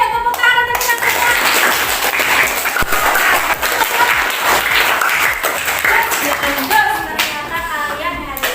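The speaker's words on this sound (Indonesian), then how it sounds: "Sekali kalian ya tepuk tangan untuk kita." Children in a classroom clap together in a loud, sustained burst of applause lasting several seconds, with a teacher's voice heard at the start and as the clapping tapers off.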